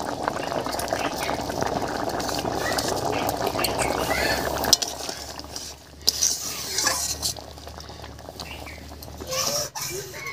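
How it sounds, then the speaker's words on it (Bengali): Shrimp curry flavored with chui jhal bubbles at a steady boil in a pot, a soft continuous simmer that thins after a few seconds, broken by occasional clinks and stirring sounds. "বলক উঠে গেছে।"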